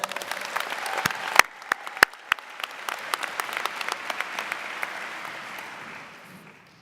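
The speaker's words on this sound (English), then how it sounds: "Let's give these 3 young people, or 4 young people, a round of applause." A high school graduation audience applauding award recipients, scattered individual claps fairly close and distinct at first, filling into a light crowd round that tapers off toward the end.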